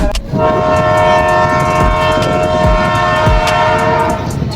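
A general passenger train bound for Mantralayam roars loud and close, its steady rumble overlaid by sustained horn tones and occasional clacking of the cars over rail joints.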